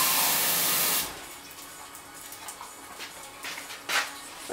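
A brief rush of water pouring into a bowl lasts about a second, then gives way to quiet, with faint clinks and small splashes afterward.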